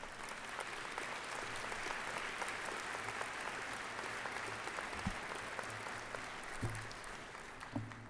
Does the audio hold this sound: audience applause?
yes